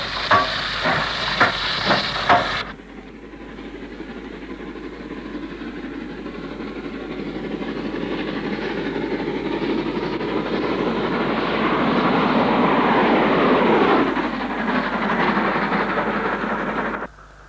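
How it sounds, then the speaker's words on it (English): Steam locomotive 44882 heads south at Shap with a fitted freight train: a short burst of nearby rumble, then a long, steady roar and hiss that slowly swells and then fades away. "45107, built by Vulcan Foundry in 1935, busies itself in the yards, and sister loco 44882 heads south on a fitted freight"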